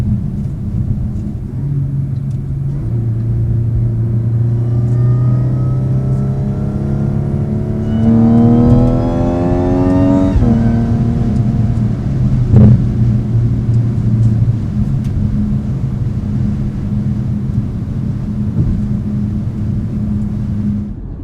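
An Audi SQ5 with quattro, a supercharged engine and an aftermarket CTS Turbo intake accelerates hard from inside the cabin, a loud droning engine whose pitch climbs through a sweep, drops at a gear change, then settles into a steady cruising rumble.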